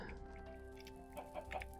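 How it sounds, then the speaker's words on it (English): A Minecraft chicken from the Better than Wolves mod clucks softly in a few short, quiet bursts over a faint steady tone, with no talking heard. "you might have just heard, chicken pooped an egg"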